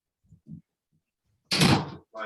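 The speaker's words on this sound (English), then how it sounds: "Let me shut the door." A door shut indoors at home during a meeting: a few soft bumps and shuffles, then a loud broad thud-and-rush as it closes, followed by a brief sound at the end.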